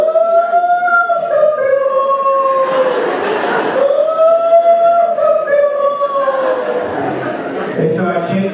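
A voice imitates police car sirens, wailing up and down in long rising and falling sweeps with a few breathy bursts between, loud and close.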